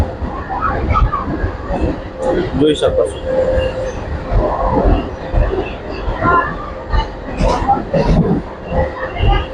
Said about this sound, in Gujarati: આખી ટ્રેન ખાલી છે મિત્રો